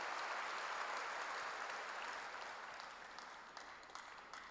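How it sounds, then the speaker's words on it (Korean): Applause from a church congregation during a sermon, a dense steady wash of many hands clapping that holds at full strength and then slowly fades toward the end, heard alone. "박수로 맞아주세요."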